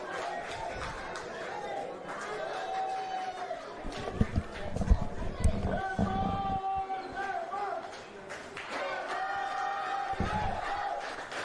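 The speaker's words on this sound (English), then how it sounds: "And with that boundary, the crowd rises. Listen to that sound." Stadium crowd at a Nepal vs Kingsmen T20 cricket match roaring and cheering after a boundary, a loud sustained wash of many voices with shouts rising and falling, mixed with chatter.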